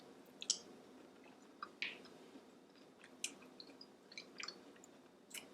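Quiet close-up chewing of crunchy oyster mushroom bacon, a series of soft crisp crunches and wet clicks spread unevenly across a few seconds, with no talking.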